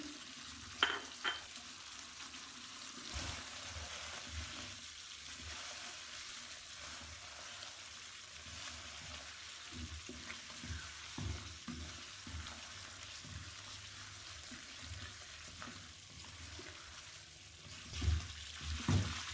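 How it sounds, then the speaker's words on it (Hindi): Cumin powder and garam masala fry in a pan for a black pepper chicken, with soft, steady sizzling and occasional scrapes of a stirring spoon. The sound stays faint throughout, with a few louder knocks near the end. "इसको आपने स्टर करते रहना है, अदरवाइज ये जल जाएगा"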